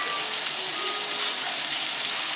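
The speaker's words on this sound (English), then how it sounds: "I'm gonna put my sausage in. Get those cooked right on up." Smoked sausage frying in a pan, a steady, even hiss of sizzling fat, fairly close, with no talking and no breaks.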